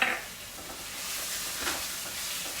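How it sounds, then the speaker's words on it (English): Malagueta peppers are sautéed in a pan for cod balls, a steady soft sizzle with faint stirring scrapes, close and continuous with no speech. "you kind of just saute this a little bit"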